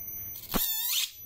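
A brief sharp electric squeal from a high-voltage inverter-driven electric fence component rises suddenly, then a high whining hiss lingers for about half a second before fading, set against a faint steady tone.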